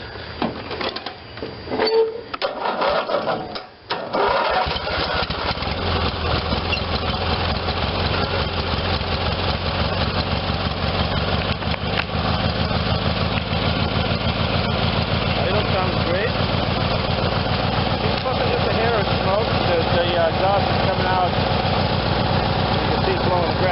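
A Briggs and Stratton twin-cylinder tractor engine starts with some sputtering, then settles into a steady, rhythmic idle with a low, pulsing thump that continues evenly, close by.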